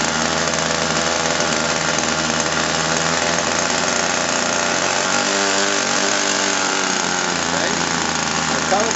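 A glow-fuel RC model airplane engine runs at low throttle while its low-end mixture is set, giving a loud, continuous buzzing drone with steady harmonics and a slight shift in pitch midway.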